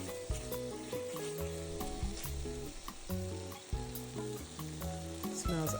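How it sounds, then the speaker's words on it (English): Strips of flank steak for pepper steak sizzle and spit steadily in a hot pan, a loud, continuous frying hiss with occasional crackles, close up, and no voices. "We're gonna keep letting this sizzle, and as you can see, it's starting to sizzle"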